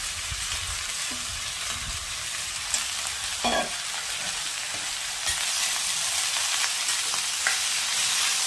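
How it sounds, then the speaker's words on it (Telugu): Green chillies frying in oil in a home kitchen pan for a cabbage and chana dal curry, giving a continuous dense sizzle heard up close with a few small pops and clinks, without any speech. "కొంచెం వేగనివ్వాలి నూనెలో."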